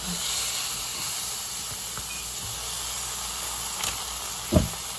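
Steam hisses steadily from a pan of steak and mushrooms on the stove, a constant broad hiss with a brief louder flare near the end.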